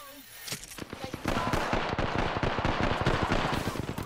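Rapid bursts of automatic gunfire from an Apex Legends firefight, dense and loud, with overlapping shots that keep going without a break.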